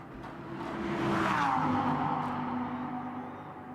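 An Audi GT race car sweeps past on track during pre-qualifying in Beijing, engine pitch rising then falling as it goes by, moderately distant, with a faint tire noise at the end.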